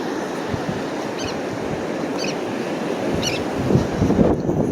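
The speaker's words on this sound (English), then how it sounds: "with this surf being so strong today" Strong ocean surf breaks and washes on a beach at high tide, a steady broad roar with wind buffeting the microphone and a heavier wave surging near the end; a few faint bird chirps sound in the distance.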